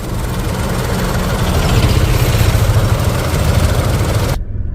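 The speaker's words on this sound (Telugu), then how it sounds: "ఒకసారి మీరు ఈ కార్కి సంబంధించిన ఇంజన్ నాయిస్ కూడా అయితే నోటీస్ చేయొచ్చండి" A Mahindra XUV 3XO's 1.2-litre MPFI petrol engine runs steadily at idle, a loud close rumble with a slight swell midway before cutting off abruptly near the end.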